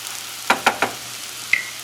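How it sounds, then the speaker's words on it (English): Chicken, tofu and vegetables stir-frying in a pan, a soft steady sizzle broken by a few sharp scrapes of gentle stirring. "And I am just trying to stir it gently at this point because I don't want to break up the tofu"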